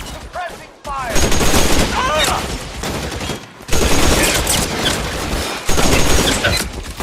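Loud, dense gunfire fills a shootout in L.A. Noire, with overlapping bursts of shots and ricochet-like whines in near-continuous volleys, two brief lulls breaking the barrage, and a voice calling out among the shots.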